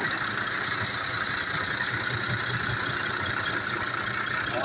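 A MAN 270 hp truck diesel engine with a ZF gearbox idles steadily at close range, a continuous even rumble with no talk over it.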